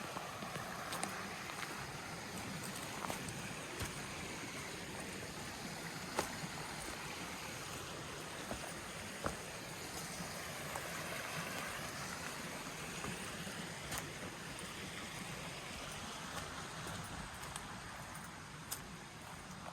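Steady broadband rush of McCaslin Branch, a small stream running over rocks, continuous and fairly close with no voices.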